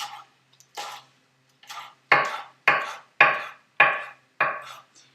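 A knife chops kale finely on a cutting board in a recipe demo, a run of about eight crisp, evenly spaced strikes, starting sparse and steadying into a regular rhythm, close and clear with no talk.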